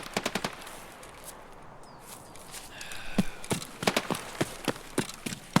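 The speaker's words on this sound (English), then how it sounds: "Is that the shooting patterns of the guards? Or is that just a normal shooting pattern?" Guards firing guns in a video game: bursts of sharp shots, a quick volley at the start, then a steadier run of separate shots toward the end, at moderate loudness with no talk.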